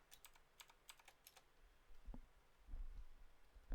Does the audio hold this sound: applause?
no